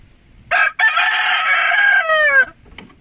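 White Kelso rooster, a year and a half old, crowing once up close and loud in a backyard: a short opening note, a brief break, then a long sustained call that bends downward at the end.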